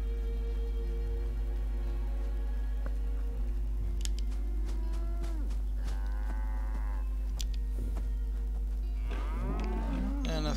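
Cows moo in the video game Fallout 76, several drawn-out lowing calls spread across the span over a steady low hum and faint ticking game ambience, with no talk.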